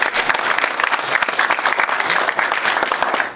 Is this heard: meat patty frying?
no